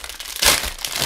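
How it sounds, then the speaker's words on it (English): Plastic bag wrapping chocolate domes crinkles close up in a brief, scratchy burst that swells loudest midway and then rustles on softly. "So you get it in a bag, so they're packaged again. Another plastic bag."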